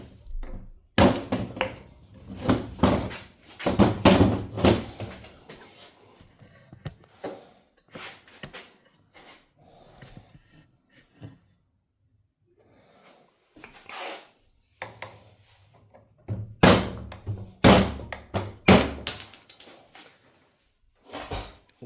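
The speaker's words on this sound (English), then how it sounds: "Now we need to knock that top out of it. Chisel screwdriver that I use and a mallet." A mallet drives a chisel-style screwdriver to knock the top seal out of a depowered BMW E36/E46 steering rack, producing bursts of sharp metallic strikes and scraping, separated by quiet pauses.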